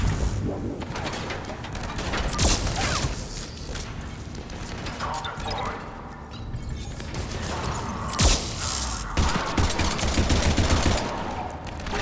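Sustained weapon fire from the video game Mass Effect 3, loud automatic bursts with crashes and mechanical clatter, rising and falling over the full span, with a voice talking underneath.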